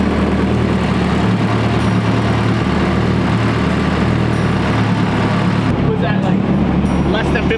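A Nissan S13 with an SR20 engine runs hard on a dyno, a loud steady engine roar near 5,000 rpm that drops off sharply near the end, with people talking over it.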